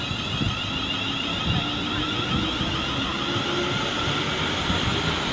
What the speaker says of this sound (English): It's double-headed. She's double-headed.